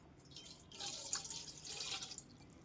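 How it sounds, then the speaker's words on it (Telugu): Water pours into a pot set on a stove for steaming jackfruit kudumulu, a steady splashing stream that runs for a couple of seconds at moderate distance, with no talking over it. "దానికోసం స్టవ్ పై ఒక గిన్నె పెట్టుకుని దానిలో నీళ్లు పోసుకొని"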